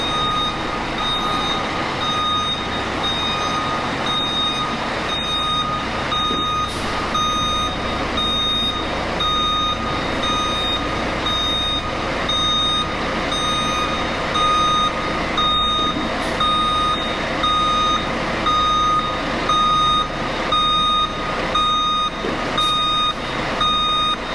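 A truck backs in with its reversing alarm beeping loudly in a steady, evenly spaced series over a constant engine drone, going on for over twenty seconds.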